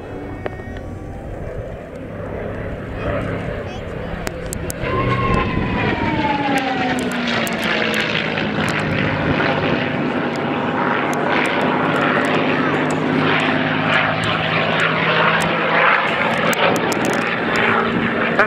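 A Merlin-engined P-51 Mustang fighter flies its display at the Scampton Airshow. The propeller engine drones in from a distance, then swells into a loud, sustained roar with a sweeping pitch as it passes, and a voice is heard partly over it.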